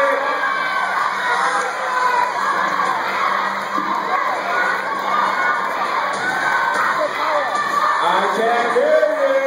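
Crowd of children at a math tournament cheering and shouting loudly and continuously, a dense roar of young voices with whoops throughout.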